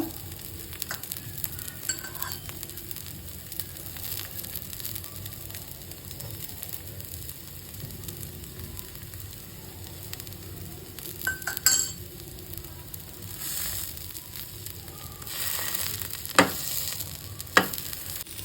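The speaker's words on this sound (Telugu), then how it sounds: "ఇప్పుడు ఇటుపక్క కూడా మనం నెయ్యి వేసుకుందామండి, రెండో వైపు టర్న్ చేసుకున్నాక." Stuffed idli roasts in ghee on a pan, a soft, close sizzle running throughout with occasional clinks and scrapes of a utensil against the pan.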